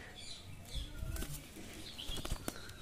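A pigeon flaps its wings as it is released from a hand, several quick bursts of wingbeats close by, fairly faint, with no talking.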